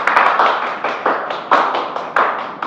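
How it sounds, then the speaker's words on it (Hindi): Audience applause at the end of a stage play of Premchand's story Bade Bhai Sahab: dense, close clapping sustained throughout, with periodic louder surges of claps. "एक बार जोरदार तालियां बजा दीजिए"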